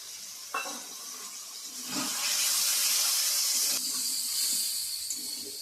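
Tomato paste hitting a hot sizzling pan in a home kitchen, a loud broad hiss that swells after a couple of seconds and holds steady, close up with no talk.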